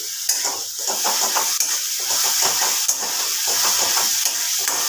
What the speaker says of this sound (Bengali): আদা রসুনের কাঁচা গন্ধটা যাওয়া অবধি এটাকে একটু নাড়াচাড়া করে নেব।